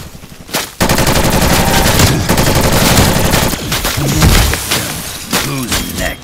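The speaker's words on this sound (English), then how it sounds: "The auto turret will target you almost immediately." An auto turret fires in a Call of Duty Black Ops Cold War Halloween zombies mode, loud, sustained rapid bursts of gunfire with rattling, shattering impacts that keep up for several seconds before breaking into choppier shots.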